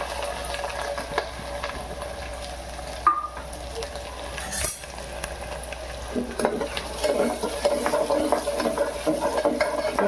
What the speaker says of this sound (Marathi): कांदा असा डवलून डवलून आपल्याला शिजून द्यायचंय लालसर होऊन द्यायचंय